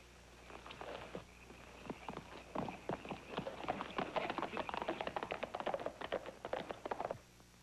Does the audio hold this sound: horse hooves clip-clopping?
yes